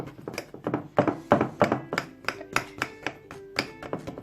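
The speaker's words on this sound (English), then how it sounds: "I'm going to get a fork and prick it all over" Quick, irregular soft taps and thunks of a fork pricking a spongy milk cake all over, close up and fairly quiet, with no voices.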